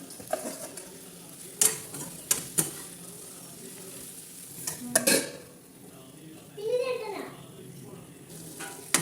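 Mature okra fries in a pan for okra chutney, with sporadic metal spoon clanks and scrapes from stirring over a soft, steady sizzle, heard up close.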